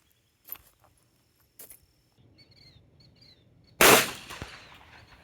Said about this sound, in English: I am still going to go ahead and shoot them, though, just for the sake of shooting them.